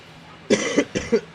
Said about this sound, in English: I don't know why I keep coughing